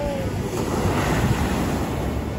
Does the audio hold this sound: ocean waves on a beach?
yes